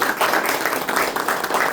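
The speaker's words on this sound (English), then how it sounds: "And one more round of applause for Mr." Audience applause at a business association meeting with a guest speaker, a steady dense patter of many hands clapping at close range, continuous and fairly loud throughout.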